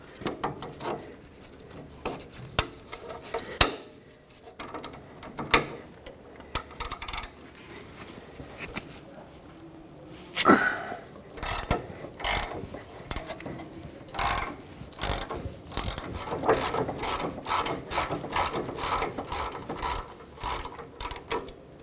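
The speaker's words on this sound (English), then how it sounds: "a ratchet with a socket on this side" A ratchet and socket work a seized sway bar link fastener on a 2003-2009 Toyota 4Runner, with irregular bursts of close, crisp clicking, turning faster and steadier in the later half with no talk.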